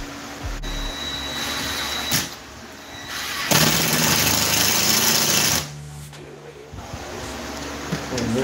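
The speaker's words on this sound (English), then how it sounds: "Now I can grind that down to smooth it out." A power tool grinds and sands drywall around a shower, running in loud, noisy stretches that swell and drop as it presses on and eases off, with brief pauses between passes and no talk.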